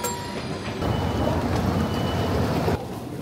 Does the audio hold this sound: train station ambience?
yes